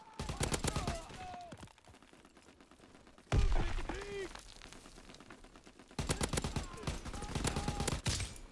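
Rapid bursts of gunfire in Call of Duty: WWII hardpoint combat in the Ardennes Forest, loud clustered volleys with a pause midway and a heavy blast, under in-game voice callouts.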